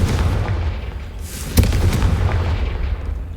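A Confringo fire spell explosion in Hogwarts Legacy, a heavy rumbling boom that swells into one sharp blast near the middle and then rolls on as a sustained low roar.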